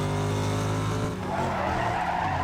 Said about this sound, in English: I braked a little too much there